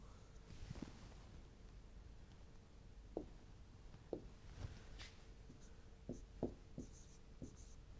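Programming code is written by hand, probably pen on paper or marker on a board, heard as faint scratchy strokes and light taps at an irregular pace over a quiet room hum.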